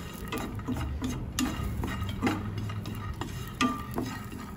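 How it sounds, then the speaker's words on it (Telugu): Onion and garlic fry dry in a pan with no water, giving a soft crackling sizzle broken by stirring scrapes and small ticking taps that repeat steadily at moderate volume. "సో నీరంతా పోయేదాకా ఇలా వేపుకుంటున్నాను నీళ్ళలో వేయకుండా ఇలా వేపుకున్నాను"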